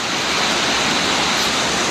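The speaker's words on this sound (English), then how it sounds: "Right up there you can see that little waterfall." A small waterfall on an Oregon mountain creek gives a loud, steady broadband rush of falling water, continuous and close, with no voices.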